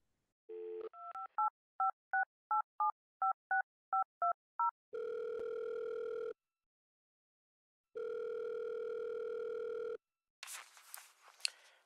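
Telephone keypad tones beep in a quick series of about a dozen short presses, then a steady dial-style tone sounds twice with a silent gap between, followed by brief scratchy rustling at the end.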